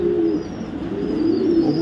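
Racer pigeons coo in a low, continuous throaty murmur up close, steady for the whole stretch with no talking.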